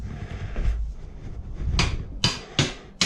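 A washer-fitted bolt is knocked through a motorcycle rear-set in four sharp, close knocks spaced under a second apart, following a stretch of quieter shuffling handling noise.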